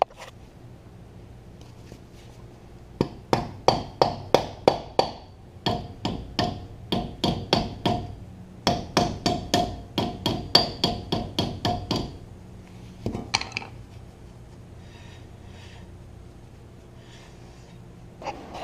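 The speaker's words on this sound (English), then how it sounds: "You'll want to tap your cap back on before you put your tire back on." Rapid bursts of sharp metallic hammer taps driving a dust cap onto the wheel hub of a third-generation Toyota 4Runner, several runs of quick, even strikes close up with short pauses between them.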